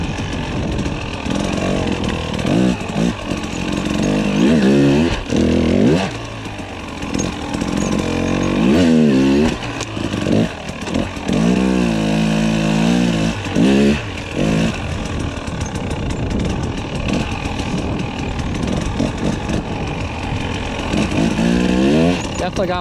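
A 2022 Sherco 300 SE two-stroke dirt bike engine revving steadily while riding over rocky ground, loud and close throughout, with throttle blips rising and falling under intermittent speech.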